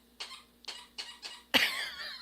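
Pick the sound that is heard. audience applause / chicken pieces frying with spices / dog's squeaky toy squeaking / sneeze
dog's squeaky toy squeaking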